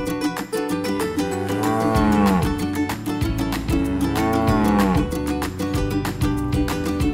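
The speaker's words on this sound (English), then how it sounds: "a bull says moo, moo, a little louder than a cow" Two long, low moos from a bull or cow, each rising and falling, over a constant music track.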